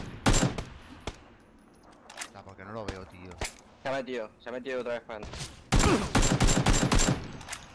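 Shotgun blasts in an online multiplayer shooter game ring out as sharp bursts, a loud cluster at the start and another dense volley near the end, with players talking over the gunfire in between.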